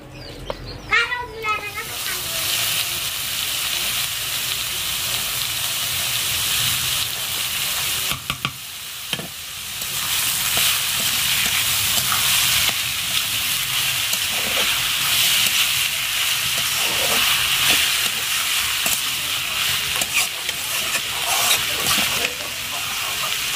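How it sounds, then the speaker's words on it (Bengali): Ash gourd bhaji frying in a pan on a stove, a loud, steady close sizzle and hiss with occasional stirring scrapes and clatter, a voice briefly speaking near the start. "চাল কুমড়ো ভাজিটা কিন্তু অনেক কড়া করে ফেলছি"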